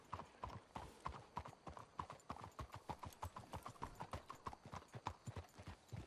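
Horse hooves clip-clop in a quick, steady rhythm in Red Dead Redemption 2, a continuous run of sharp, evenly spaced hoofbeats, close and distinct with no voices over them.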